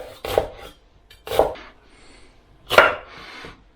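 A knife dicing onions and peppers into small mirepoix cubes on a wooden board gives three loud, close bursts of rapid chopping separated by short pauses, with no one speaking.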